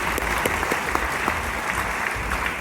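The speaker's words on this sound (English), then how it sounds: "Give him a round of applause as he goes on." Steady, dense audience applause fills a hall at a youth awards ceremony, continuous and fairly loud with no voices on top.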